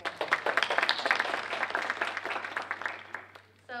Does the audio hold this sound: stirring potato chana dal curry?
no